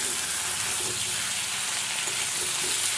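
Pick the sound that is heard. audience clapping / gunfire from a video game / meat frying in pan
meat frying in pan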